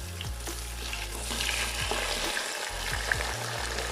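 Mutton pieces fry in a pan with browned onions and garlic-ginger paste for pulao. A continuous hissing sizzle runs throughout, broken by occasional scrapes and soft knocks from stirring, with no talking.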